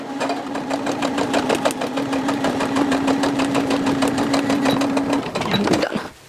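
A sewing machine stitches fabric for foundation paper piecing, running in a steady, fast mechanical rhythm with a constant motor hum for several seconds before it slows and stops near the end.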